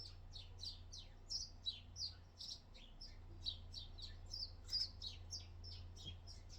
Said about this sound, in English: And then these beautiful birds just came in.